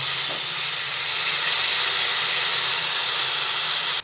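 Sour yogurt hitting hot oil in a pan of eggplant korma gives a loud, steady hiss and sizzle that runs continuously, close up, for about four seconds before stopping abruptly at the end.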